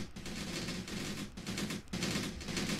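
Sustained gunfire from the video game Graviteam Tactics, set in 1980s South Africa during Operation Hooper, dense rapid automatic bursts with two brief pauses, loud and continuous throughout.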